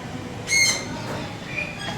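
A pet parrot gives one short, bright squawk with harmonic overtones, loud and close, followed by a fainter chirp against indoor background noise.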